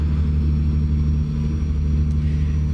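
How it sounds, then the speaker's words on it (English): A 160-horsepower Cummins truck engine in American Truck Simulator drones at a steady low rumble, holding an even pitch as the truck drives, with no talking. "Awesome sound coming from the 160 horsepower Cummins engine."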